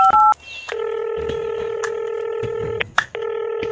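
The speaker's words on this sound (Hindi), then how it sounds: "नेता जी को पहले फोन कर सकता हूँ" A telephone keypad beeps out a quick string of touch-tone digits for a call to a politician, then a steady electronic ringing tone repeats in long, loud pulses with a short gap, close and clear with no talking.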